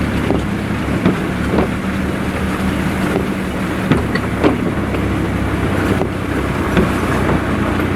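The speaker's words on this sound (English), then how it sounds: "I'm in second gear doing 700 RPM, just about tick over speed." A vehicle engine at tick-over, about 700 RPM in second gear, on a journey in the Philippines, gives a steady low rumble with faint ticks, mixed with wind buffeting the microphone.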